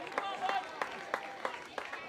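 At a Canada Games men's baseball game, the crowd claps and cheers faintly in the distance for a called strike, with steady rhythmic clapping under a commentator's voice.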